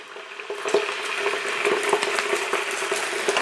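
Dijon mustard stirred into a pan with tuna steaks, a steady sizzle with soft scraping and clinking of the utensil, close and continuous with no talk.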